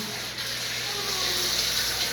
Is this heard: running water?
yes